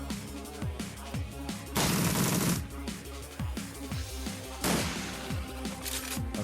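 Gunfire in the video game Shadowrun Returns, shooting bugs, comes as rapid repeated shots with rhythmic thuds. Two louder bursts of firing stand out over the game's steady background sound.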